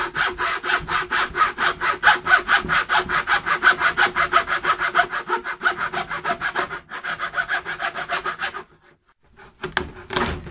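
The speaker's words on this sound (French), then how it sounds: "je vais utiliser la scie à métaux qui peut travailler probablement plus précisément" Steady back-and-forth strokes of a fine-toothed hacksaw biting through a wooden board for a bird feeder, close and rhythmic, briefly pausing near the end before resuming.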